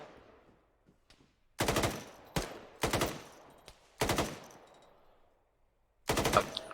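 Bursts of rapid gunfire during a squad training exercise, five loud volleys each lasting about half a second, with sharp attacks and echoing decays in between, heard outdoors without talk.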